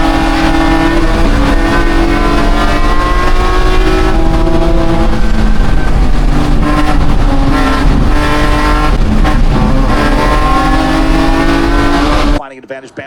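Race cars roar through the opening lap of a Legends circuit race, engines loud and continuous with shifting pitch as they bunch and accelerate, a commentator talking over the din before it cuts off at the end.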